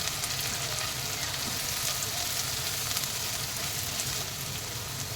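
Onions frying in hot oil over a high flame give a steady, dense sizzle that stays loud and even throughout, with no voices.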